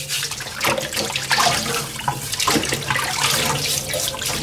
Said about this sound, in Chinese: 肉都是老板杀好了的，我们直接清洗啊